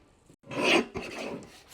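Paper trimmer slicing through paper while the bar is held down, a short rasping swipe followed by a softer second scrape, close and alone.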